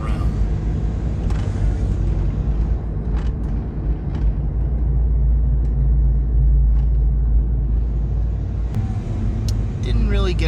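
A 1995 Ford F-150 pickup with a power steering leak drives along with a loud, constant low engine and road rumble, close up, while a person talks over it.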